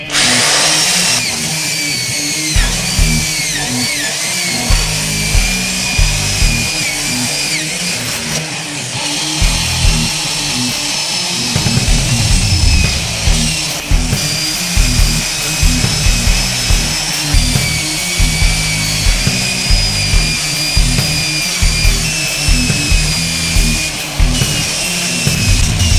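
A power tool grinds rust off the metal edges of a car trunk before welding, a loud continuous harsh whine with recurring surges and pulses throughout.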